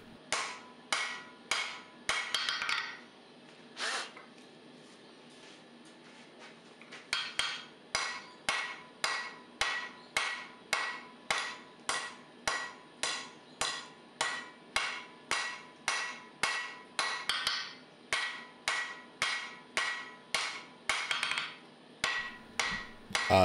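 Steady ringing hammer blows forging a wrought iron and steel billet for a brokenback seax, close and loud, in regular rhythm with a short pause partway.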